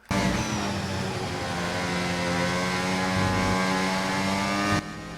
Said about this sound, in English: We've had an engine failure.